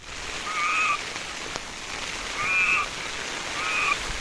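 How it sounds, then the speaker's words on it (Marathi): Frogs croaking at night in the rain, three evenly spaced bursts of shrill croaks over a steady hiss of falling rain, with one sharp drip-like tick between them. "आता या ठिकाणी बेडूक ओरडत्याला आवाज यायला लागलाय."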